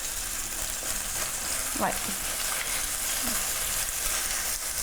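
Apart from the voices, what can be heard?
chicken browning in a frying pan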